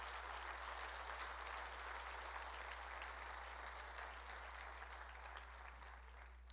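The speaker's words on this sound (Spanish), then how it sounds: "Le da fuerte ese aplauso al Rey," A church congregation applauds together, a broad, steady wash of clapping filling the room for several seconds over a low constant hum.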